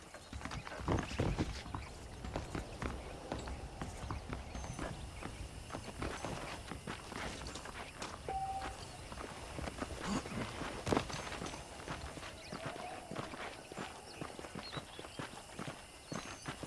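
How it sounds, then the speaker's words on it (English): Steady clip-clop of horse hooves walking at an even pace in the video game Red Dead Redemption, close and fairly quiet, with faint background ambience and no talking. "let's see if you can still ride a horse"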